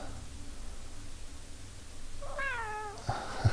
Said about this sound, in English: Did you hear my cat then?